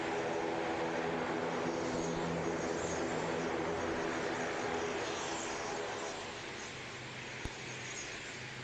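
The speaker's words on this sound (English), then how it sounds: "Gorgeous departure there from the PC-12 as the clouds start to break." A Pilatus PC-12 turboprop departs Christchurch Airport with a broad, continuous engine roar that holds steady, then slowly fades as it moves away, heard from a distance outdoors.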